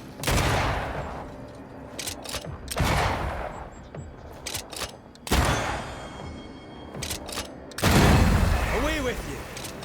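A spectre enemy opens fire in the video game Banishers: Ghosts of New Eden, with four loud, heavy bursts of gunfire that boom and echo, separated by short quieter gaps.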